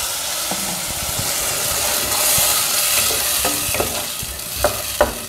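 Ground tomato paste poured into hot oil with popped mustard seeds for bitter gourd sambar sizzles steadily and loudly close up, with a few sharp crackles and spatters near the end and no talking.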